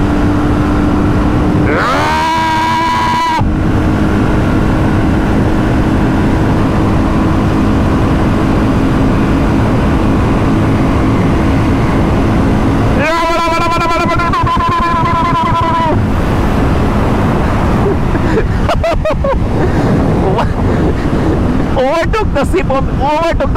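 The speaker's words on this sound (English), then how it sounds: "let's see the punch on offer with the BSA Gold Star. Let's go all out, man." BSA Gold Star 650 motorcycle engine at full throttle on the road, a loud continuous roar buried in heavy wind blast, with a few rising whine passages from gear changes or passing traffic.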